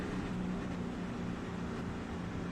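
Race truck engine in iRacing idling low and steady, a faint continuous rumbling drone with no change in pace or level across the moment.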